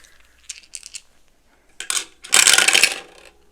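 Three dice are rolled for a cash-stuffing savings game: a few light clicks are followed by a sharper rattle and then a loud, close clatter as they tumble and settle.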